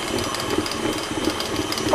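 An electric stand or hand mixer runs on high, spinning whole wheat bread dough in a bowl, a close, continuous motor whir with a steady rhythmic churning and no voices.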